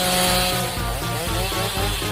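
A chainsaw drones loudly and steadily for about two seconds, its buzzing engine pitch wavering slightly, with no talking.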